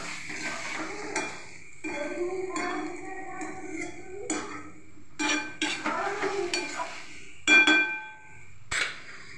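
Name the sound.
stirring duck eggs and fried potatoes in a pan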